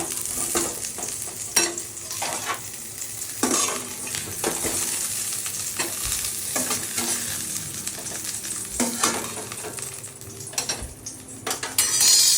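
Pitha fries in oil in a pan with a continuous sizzle, broken by repeated clinks and scrapes of a utensil against the pan; no voices.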